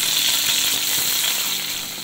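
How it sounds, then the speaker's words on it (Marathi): Onion, curry leaves and garlic are dropped into hot oil as the tempering for a Bangda fish curry. They give a loud, steady, close sizzle with no voices. "तेल गरम झालं आहे, त्यामध्ये आता त्या कांदा, कढीपत्ता, लसूण फोडणीला घालते"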